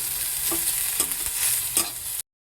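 Onions frying in a pan to brown, a steady close sizzle broken by a few soft stirring scrapes at roughly half-second intervals before the sound cuts off abruptly.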